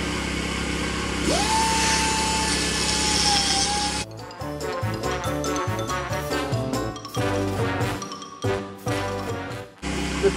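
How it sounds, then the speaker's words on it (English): A pneumatic air grinder whines in a workshop, its steady high-pitched drone holding for about four seconds before giving way to choppier, pulsing grinding bursts that run on loudly with no talk over them. "The trusty air grinder."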